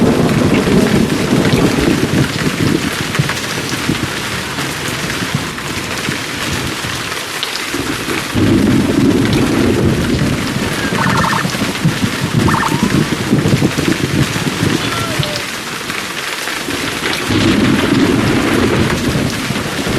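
Heavy rain pours continuously while low thunder rumbles roll in and out in the background, in the video game Emergency 4 Deluxe with a São Paulo mod.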